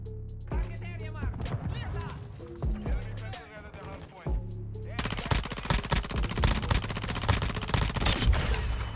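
Rapid bursts of PDSW 528 submachine gun fire in Modern Warfare 2 gameplay, first short clusters of shots mixed with game sounds, then a long, dense, continuous stream of automatic fire; a player talks over parts of it.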